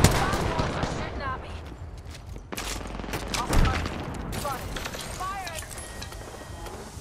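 Video game gunfire in a team shooter match: steady rapid shots and impacts throughout, with a louder burst midway, heard under frequent player talk.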